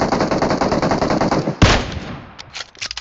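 Rapid automatic gunfire in the mobile game PUBG Mobile, a fast close burst of shots followed by a louder blast and a few scattered single shots.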